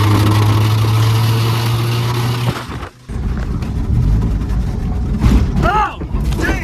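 Engine of a cheap used race car bought off an online marketplace, rumbling steadily at idle with rising revs later, up close under talk and muddy-field driving noise.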